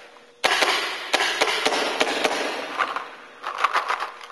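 A paintball gun fires outdoors at a barrel 250 feet away, giving sharp cracking pops, a few spaced single shots followed by a quicker burst, loud and close with no voices.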